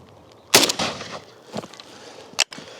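A single sharp gunshot from an AKM rifle firing a 7.62 round at an armor plate, loud and close, followed by a shorter crack and a brief metallic clatter as the plate falls.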